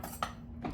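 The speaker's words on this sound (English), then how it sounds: "just use a butter knife" A butter knife clinks against dishes in two or three quick, light metallic taps, close and fairly faint, with no talk.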